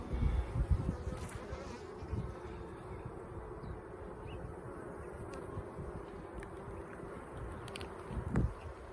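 Honey bees buzz steadily around an open hive during an inspection, a faint, continuous drone with light rustles and a few handling bumps.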